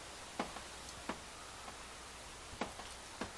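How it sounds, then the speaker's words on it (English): Water from a leaking roof drips indoors at a home, sharp faint taps landing every half second or so in an irregular rhythm, isolated against a quiet background. "Not the dog, the drip."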